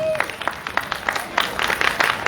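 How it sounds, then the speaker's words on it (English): Applause at a museum awards gala, a scattered patter of claps from the audience that is moderately loud and fairly sparse, with a brief voice at the very start. "Give me some applause."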